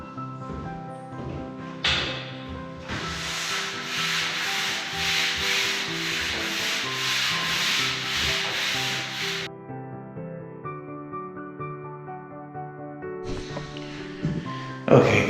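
Room walls are given a light sanding rub before painting, a loud, steady raspy scraping in long continuous strokes over background music, pausing briefly before resuming.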